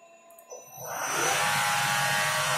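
A lathe spindle retrofitted with LinuxCNC control, after a near-silent pause with a faint knock, spins up into a loud, steady broadband whir with a high whine, settling at about 600 RPM and running on continuously.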